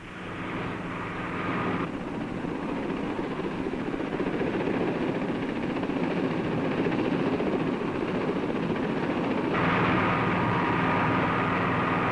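A low-flying helicopter roars steadily in a 1965 film, a dense continuous rotor and engine rumble that stays loud throughout with slight shifts in tone, no voices over it.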